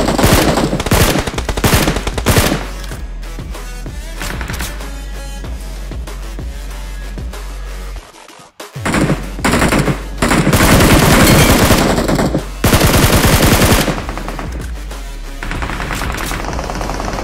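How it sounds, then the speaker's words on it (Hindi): Heavy gunfire fills a BGMI mobile battle royale match, loud bursts of rapid automatic fire and single cracks coming near and continuous, broken by a brief quiet gap before the shooting resumes. "वहां पर काफी तगड़ी फायरिंग होने लगी थी"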